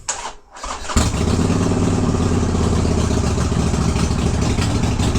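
A Harley-Davidson Sportster 883 fitted with a Hammer 1275 big-bore kit idles in a garage. After a brief quiet moment the engine catches and settles into a loud, steady, close rumbling idle with no talking.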